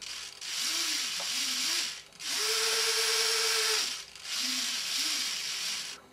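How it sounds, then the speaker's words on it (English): Servo motors whir under load in bursts, with rising and falling gear tones in short repeated sweeps separated by brief pauses, close and moderately quiet. "Three servos work well with little variation."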